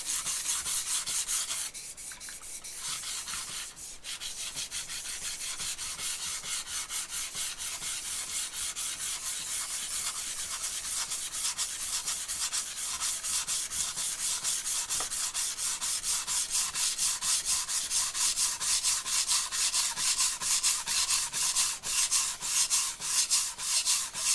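A fairly hard steel kitchen knife is drawn over a sharpening stone with continuous gritty rasping strokes, steady and close, speeding into a quicker rhythmic scrape toward the end, with no talking.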